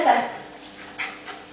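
A pet dog named Jagger whimpers and pants softly at close range in a few short, breathy bursts, with faint background noise and no clear talk.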